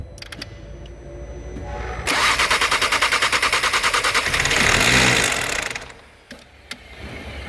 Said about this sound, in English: this is the hydraulic lifters